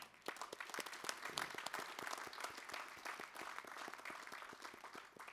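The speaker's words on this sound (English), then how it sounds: "for everybody that isn't, a great round of applause as well" Audience at a conference closing ceremony breaks into a great round of applause, a dense, steady patter of many hands clapping with sharp individual claps standing out, moderately faint and continuing throughout.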